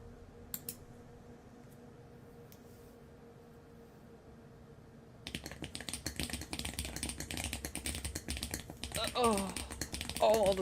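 Rapid clacking keystrokes from a custom keyboard built on a cardboard base, starting abruptly after a quiet stretch and continuing in a dense rattle, close and loud, with brief voice sounds near the end.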